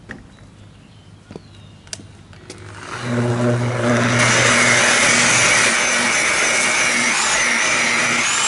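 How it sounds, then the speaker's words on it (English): Buffing a scratch out of a truck's clear coat with a medium buffing wheel: after a few light clicks and handling noises, a power buffer spins up to a loud, steady whirring drone that holds for several seconds. "So let's do the medium wheel and try and buff it out a little bit more."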